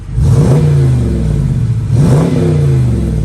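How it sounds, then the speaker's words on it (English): A 2020 Dodge Challenger R/T 5.7 HEMI V8 revs hard twice through its standard exhaust, each rev rising to a roar and falling back, close and dominating. "Let's check out the sound of the exhaust."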